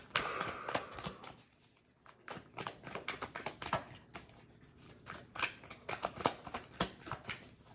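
Tarot cards riffled and slapped down quickly in a steady, busy stream of close papery flicks and taps, with no voice.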